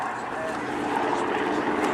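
Aerobatic display aircraft passing at the Cosford airshow, a broad steady engine roar that swells slightly as it moves across, heard under a commentator talking over the public address.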